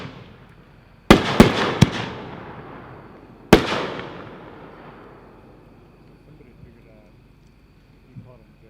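Tannerite Shell Kit firework shells burst as three sharp, loud reports in quick succession, then one more blast, each trailing a long rumbling decay, with faint crackle afterward outdoors.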